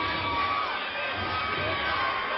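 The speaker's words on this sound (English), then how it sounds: "The crowd is going crazy here." Arena crowd at an MMA welterweight title fight roaring and cheering steadily between rounds, a dense, distant wall of voices and whoops that stays level throughout.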